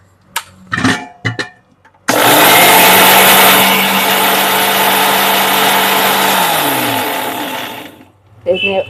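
A mixer grinder grinds spice powder, roaring loudly for about six seconds, steady and harsh, then winds down; brief clunks and handling noises come before and after.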